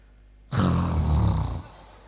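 A husband snoring while dozing off, one long rough snore lasting about a second, loud and close, with no talk over it.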